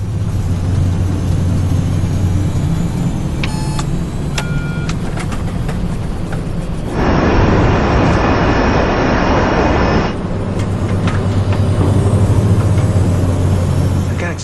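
Jet airliner engines droning steadily while cruising at about 33,000 feet in bad weather, a loud continuous cabin roar with a strong low hum and brief tonal beeps partway through.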